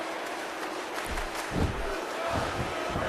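A wrestling video game crowd cheers for Mysterio, a continuous roar of voices that swells in surges about halfway through and stays dense to the end.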